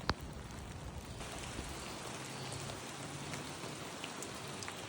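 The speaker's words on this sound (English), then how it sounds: "It's just rain." Rain falling at the start of a nor'easter on the US East Coast, a dense, steady patter on surfaces all around, even and continuous with a sharp tap at the start and no voices.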